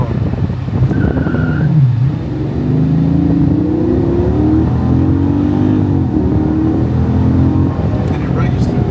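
A car on Nitto NT555 G2 or 555R street tires accelerates hard in a roll race, engine note climbing steadily and loudly through the gears with rising whine, close and continuous over several seconds.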